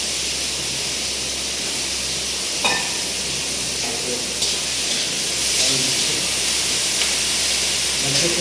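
Potatoes fry in a pan in a home kitchen, giving a steady, loud hissing sizzle throughout, broken by a few faint clinks of a utensil.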